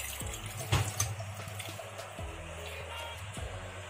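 Liquid is poured into rice cooked in a pressure cooker for Kerala rice payasam, a soft steady splash and pour running about four seconds, close and moderately quiet with faint kitchen hum underneath.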